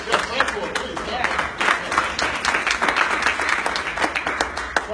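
An audience claps for a former basketball star turned forex trader at a money and trading event, steady crowd applause with some sharper individual claps and a little voice mixed underneath.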